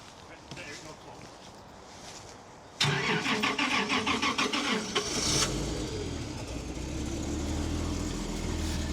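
A 40-ton Caterpillar excavator that sounds rough cranks and fires, then the diesel engine settles into a low, uneven rumble after a burst of clattering starter noise.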